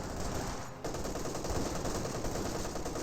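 An MG34 machine gun fires in Company of Heroes 2, a dense, rapid rattle of shots sustained for a few seconds at moderate loudness, heard alone.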